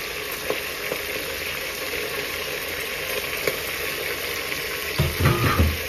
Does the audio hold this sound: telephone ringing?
no